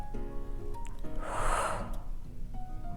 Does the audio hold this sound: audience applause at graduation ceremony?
no